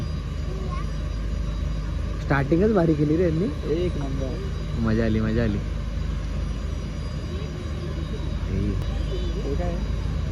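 A continuous mechanical buzz of many drones flying overhead at a drone show in Pune, with people chatting excitedly in the foreground.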